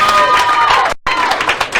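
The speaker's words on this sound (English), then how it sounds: "The crowd is getting a little bonkers." A crowd at a PBA bowling singles stepladder final roars with loud cheering and applause, broken by a split-second gap before the noise bursts back just as strong.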